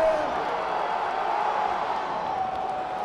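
A crowd at the 2019 Arnold Strongman Classic cheers on an overhead lift attempt. The roar is steady, dense and loud, and it holds for the whole stretch without a break.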